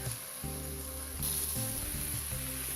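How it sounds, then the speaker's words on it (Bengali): Soaked basmati rice and lentils sizzle steadily as they fry in a pan for khichuri, a continuous close crackle with a brief stirring shift partway through and a slightly louder patch near the end. "এখন আমি সব কিছুর সাথে চালগুলো ভালো করে ভুনা করে নিচ্ছি"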